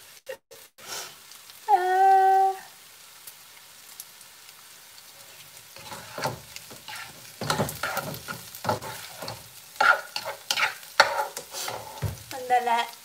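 Chicken pieces go into a frying pan with onions and are stirred, giving irregular scraping and clattering bursts over a soft sizzle, preceded by a short electronic beep.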